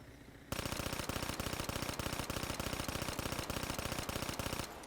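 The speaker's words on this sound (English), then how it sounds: "this is the Pharaoh firing with the burst mod" The Pharaoh gun in a video game fires in rapid bursts with short gaps between them, loud and close, as a steady rattling stream of shots that starts abruptly and runs almost continuously before stopping.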